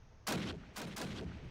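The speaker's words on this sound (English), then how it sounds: "Finds one, nice headshot on Nightmare, 2 more to go." Two loud, sharp gunshots from a first-person shooter video game match on the Dawnville map, fired in quick succession with a short gap between them.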